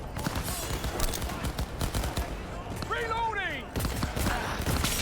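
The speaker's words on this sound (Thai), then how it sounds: "ยิงกันแล้วเว้ย" Gunfire rattles in Cyberpunk 2077 during a chaotic street fight, bursts of rapid shots crackling across the scene, with a brief swooping electronic tone in the middle and excited voices chattering over the action.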